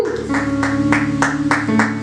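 A church congregation claps in an even rhythm, about six sharp claps over a sustained musical tone, with no voices.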